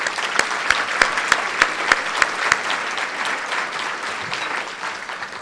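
A county audience applauds elected officials, including the elections supervisor and the sheriff, at a State of the County address. Steady clapping from a large crowd, with a few sharper individual claps standing out early and then fading to an even wash.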